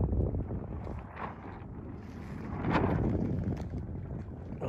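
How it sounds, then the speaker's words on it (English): Wind rushes past a sailboat sailing close hauled, a steady broadband roar with gusty swells and some creaks and knocks from the boat, no voices present. "So that means the wind is blowing this way."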